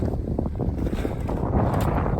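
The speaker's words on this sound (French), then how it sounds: "Il y a du vent, il y a de la grêle." Cold wind batters the microphone on the GR20 mountain trail in Corsica, amid fog and falling hail, with a steady, close, rough rushing that swells toward the end and no talking.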